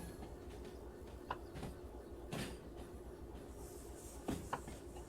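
A freight train of about 585 tonnes hauled by two locomotives rolls along in the railway sim Derail Valley, a steady low rumble broken by occasional metallic clanks and knocks from the cars.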